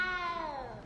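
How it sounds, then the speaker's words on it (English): A single short meow from a cat in the video game Hogwarts Legacy, a clear, close, falling-pitch cry lasting under a second. "Oh, but the kitty cat."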